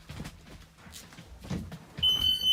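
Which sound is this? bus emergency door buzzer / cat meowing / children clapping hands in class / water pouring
bus emergency door buzzer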